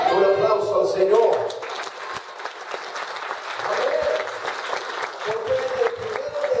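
A church congregation breaks into loud, sustained applause during a sermon, the dense clapping mixed with raised voices and cheering throughout.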